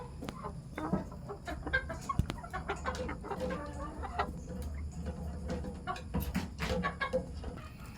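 A hen clucks close by while laying an egg, a steady, chattering run of short calls, with scattered clicks and farmyard noise behind.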